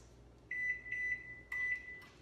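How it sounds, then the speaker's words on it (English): Microwave oven heating a tube of epoxy paste for 15 seconds, heard as a quiet hum broken by three clear, steady electronic beeps, with no talking. "walk over to your microwave, take the cap off, stick it in here. We're just going to do 15 seconds."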